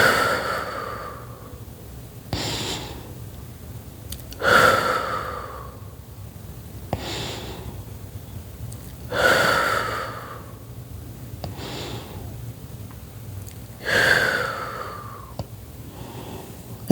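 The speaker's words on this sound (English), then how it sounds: "Take about 5 deep breaths." Slow, deep human breaths in a calm relaxation setting, four long inhale-exhale cycles spaced a few seconds apart, close and audible with soft airy rushes and quiet pauses between, no talking.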